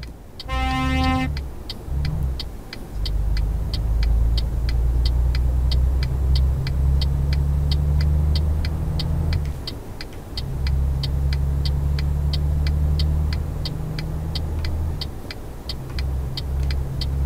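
Heavy truck engine in Euro Truck Simulator 2 revving and accelerating in sustained low rumbling surges with brief dips, under a steady ticking indicator click, loud and close.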